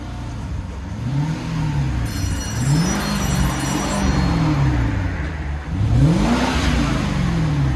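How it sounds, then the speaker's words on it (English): Stock-exhaust Lexus SC430 with a 4.3L V8, revved repeatedly from idle in a series of rising and falling swells, a fairly quiet, smooth engine note heard close up. "we got a Lexus SC430. This is what it sounds like before."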